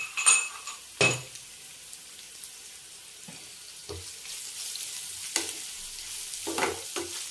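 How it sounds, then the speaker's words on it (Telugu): Onions and garlic fry in tempering oil for a fenugreek-leaf dal, a soft, steady sizzle broken by several sharp spoon scrapes and stirring strokes against the pan. "ఉల్లిపాయలు వేగిన తర్వాత వెల్లుల్లి వేసుకున్నాం"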